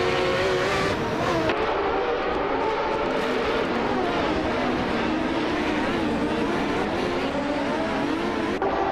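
Race cars roar continuously in a racing video game, engines droning and revving close by with a passing whoosh and some tire noise, steady and loud throughout.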